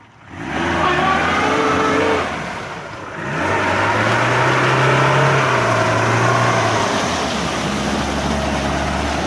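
A Lada Niva off-road car engine revs loudly and continuously at close range, dipping briefly before climbing again with a rising, sustained drone during an off-road outing; people call out in the background.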